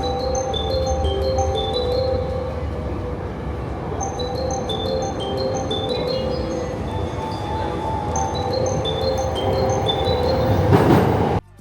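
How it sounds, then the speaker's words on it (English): A cheerful Japanese train station chime melody plays over the steady rumble of a train, with bright repeated tones ringing out clearly before a sharp burst near the end. "here's more jingles from trains because I love these train jingles."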